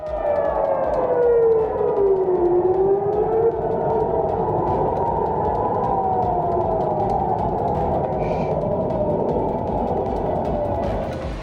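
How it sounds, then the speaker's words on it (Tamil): A loud air raid siren wails continuously in Jerusalem, its pitch sliding slowly up and down over a steady rumbling background. "இஸ்ரேலின் ஜெருசலேம் நகரில் அபாய எச்சரிக்கை சைரன்கள் ஒலித்தன"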